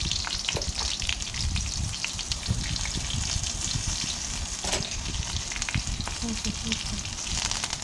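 Broken dried red chillies fry in hot oil in a kadai, a steady dense sizzle and crackle with the scrape and clatter of a spoon stirring throughout, close and loud, no talking.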